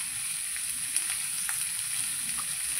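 Pasta frying in a pan with salt, a quiet, constant sizzle with a few faint clicks of stirring, no talk.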